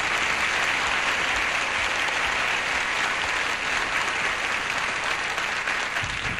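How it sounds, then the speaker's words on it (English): A studio audience on the Tic Tac Dough game show applauds loudly and steadily for the full stretch, a dense wash of clapping with no pause and no talk over it. "Hey, give them a nice round of applause."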